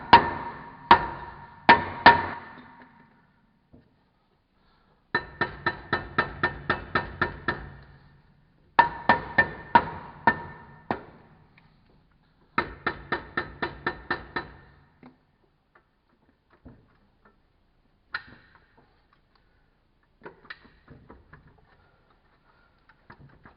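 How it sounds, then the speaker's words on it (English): A small dead blow mallet taps a painted rear brake rotor on a 2016 Ram 1500, in several bursts of quick, sharp, close knocks separated by pauses, then a few scattered lighter taps. "so I just have a real small dead blow mallet"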